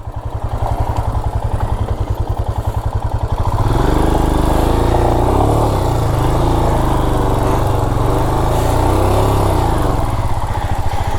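A motorcycle engine in first gear chugs with a rapid, loud, pulsing beat, then settles into a steadier, fuller drone as the bike rolls along a rough road, close and continuous.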